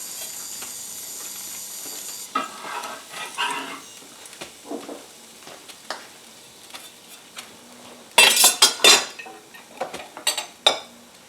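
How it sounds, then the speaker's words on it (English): Finely chopped onions sweat in olive oil in a frying pan with a faint, patchy sizzle broken by stirring scrapes and pan knocks that grow louder and busier near the end. "While the onions are getting fried"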